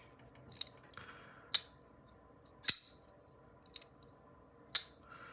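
A stonewashed folding knife's flipper snaps open and shut several times, giving sharp, crisp metallic clicks spaced about a second apart, close and fairly quiet.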